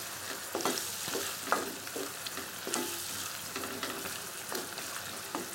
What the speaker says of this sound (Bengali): এবার সব ভালো করে মিশিয়ে নিচ্ছি।